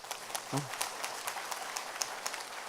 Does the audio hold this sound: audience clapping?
yes